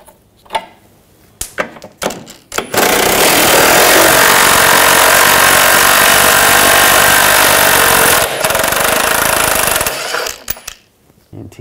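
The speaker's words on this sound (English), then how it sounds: "we're gonna take this bar down, use a 15 millimeter socket" On a Ford Escape, a power tool with a 15 millimeter socket zips nuts off a bar under the car in one loud, sustained whirring burst lasting several seconds. Short clicks and handling noises come before and after it.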